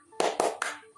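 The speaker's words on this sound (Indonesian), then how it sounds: "Ibu mengajak kalian untuk melakukan ice breaking dengan tepuk semangat." A class of schoolchildren claps the tepuk semangat routine: three quick, sharp, close rounds of clapping in a short rhythmic burst, then silence.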